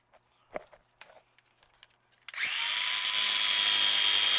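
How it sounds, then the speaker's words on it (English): After a few light taps and clicks, a power tool grinding fasteners off a floor starts up loud and close, a sustained high whining grind that holds to the end. "Just grind them off"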